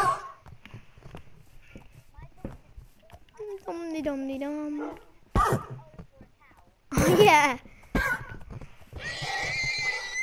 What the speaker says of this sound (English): Let's get your dog to kill some horses, because then we can get some leather.